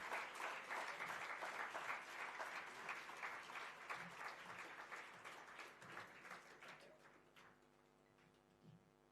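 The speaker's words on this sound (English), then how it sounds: "A huge round of applause, ladies and gentlemen." An audience at the Golden Goggle Award Ceremony applauds the award winners, with steady clapping that thins out and fades toward the end, leaving scattered claps and a faint hum.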